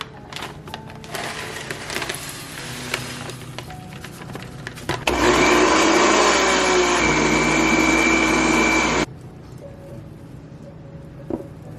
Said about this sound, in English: you put your oats in a blender, blend them up, and you have oat flour.